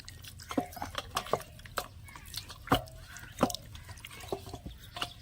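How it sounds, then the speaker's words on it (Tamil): Irregular splashes and drips of water with wet handling sounds, close by, as raw chicken is rinsed under running water in short bursts. "first chicken கழுகிக்கலாம்பா"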